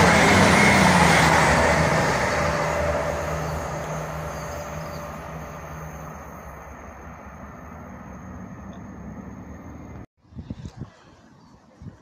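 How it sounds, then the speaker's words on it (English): A Class 66 freight locomotive in Maritime livery rumbles loudly through a station, its roar slowly fading as the wagons pass, then cutting off abruptly with a few faint knocks afterward. "We have a freight train coming through. It's a Class 66 Maritime."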